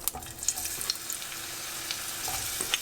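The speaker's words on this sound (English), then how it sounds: "So I'm going to put the onions in." Onions added to a hot pan for an onion and fenugreek seed curry fry with a steady, close sizzle, broken by faint scrapes and taps as they are stirred and broken up.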